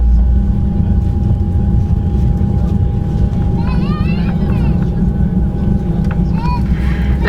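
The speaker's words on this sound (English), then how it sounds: "Yeah, the engine starting now." Transavia Boeing 737 engine spooling up during pushback at Amsterdam Schiphol, a steady loud low rumble and hum with a constant tone, heard from inside the cabin while people talk over it.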